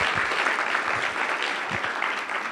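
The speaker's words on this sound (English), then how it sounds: "Give him a round of applause." Applause from a seated audience at a fintech awards summit, a steady dense patter of many hands clapping close by for the full stretch, with no voices over it.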